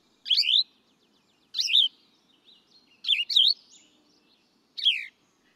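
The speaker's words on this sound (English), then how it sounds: "So that's a bird's song." Short bursts of songbird chirping, four separate phrases spaced over a few seconds, each a quick run of bright rising and falling notes, fairly close and clear against a quiet background.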